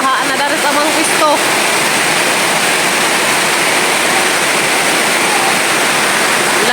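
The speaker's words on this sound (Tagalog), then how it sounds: "Grabe, kasugas uwan." Heavy rain pours down in a dense, constant roar of broadband noise, loud and unbroken, with faint voices briefly audible beneath it at the start.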